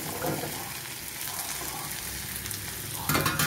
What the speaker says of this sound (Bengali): এরপর দিয়ে দিলাম টমেটোটাকেও কিছুক্ষণ ভেজে নেব।